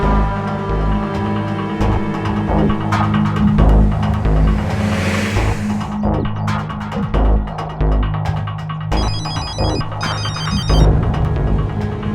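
A phone ringtone chirps in repeated bursts over a loud, throbbing background hum and steady rumble.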